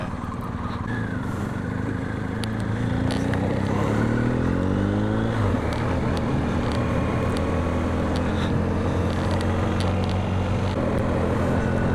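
A BMW R1250GS Rallye TE adventure motorcycle rides along a road, its steady engine drone and wind roar filling the clip, with a brief rising then falling rev around the middle.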